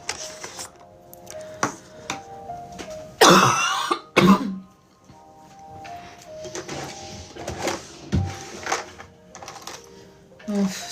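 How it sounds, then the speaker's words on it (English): A few sharp coughs burst out close by, with quieter clicks and rustling around them. "this cough has just been gnarly"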